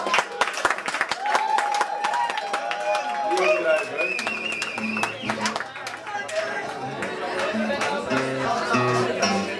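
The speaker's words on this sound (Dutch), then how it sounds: "Dus applaus voor deze man." An audience claps and cheers for a singer at an acoustic session, with chatter and talking over the clapping and brief tones rising from the mix.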